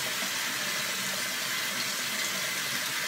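Tap water runs steadily into a sink while shaving soap is rinsed off, a close, continuous hissing splash with no talk.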